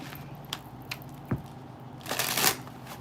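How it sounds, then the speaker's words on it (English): Tarot cards riffled and shuffled by hand, soft papery flicks and taps ending in a louder burst of shuffling near the end, close and fairly quiet with no talk. "One more shuffle for Taurus."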